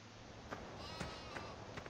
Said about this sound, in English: It's nice to see the Queen Sheep again.